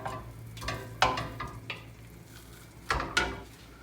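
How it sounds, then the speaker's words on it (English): Metal meat masher scraping and clanking through three pounds of ground hot and mild Italian sausage in a pan, with sharp scrapes and knocks over a steady low sizzle, close and fairly loud. "Got my handy meat masher."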